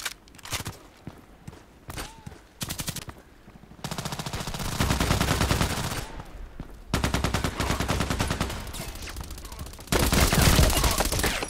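Rifle fire from a sniper video game comes as rapid bursts of sharp cracks, some in quick rattling strings and others spaced apart, loud and alternating with short quieter gaps.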